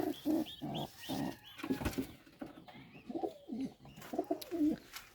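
Domestic pigeons cooing in a coop where they nest and raise chicks, with repeated close, soft rolling coos in short rhythmic bursts and no talk.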